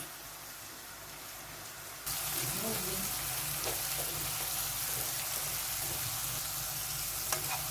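Mushrooms sizzle and fry in a pan for a creamy mushroom pasta, a quiet background first, then a loud steady crackling sizzle with occasional stirring scrapes.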